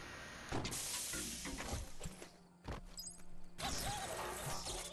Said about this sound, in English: Could that be the whirring of a fan nearby?